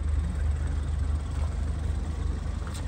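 A Ford Fiesta ST2 engine idles with a steady low pulsing throb and a faint continuous hiss, moderately quiet and unbroken for the few seconds heard.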